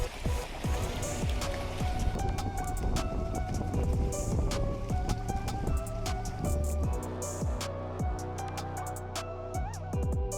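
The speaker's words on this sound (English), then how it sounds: "the convergence of hail and a fierce storm" Dense patter of hail striking surfaces in a fierce storm in Spain, sharp irregular impacts over a constant stormy roar, loud and close throughout.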